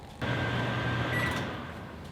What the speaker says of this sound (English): So we're going to put them in the microwave right now.